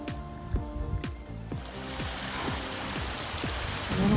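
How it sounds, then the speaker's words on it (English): A small waterfall in the High Sierra gives a steady, close rush of falling water, overlaid by a regular series of rhythmic low thumping pulses, with no talk. "A little waterfall coming down."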